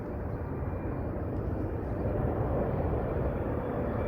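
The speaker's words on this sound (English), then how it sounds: "And this is a American Airlines 777." An American Airlines Boeing 777 airliner lands at London Heathrow with a loud, steady, broadband engine roar that holds at constant strength throughout.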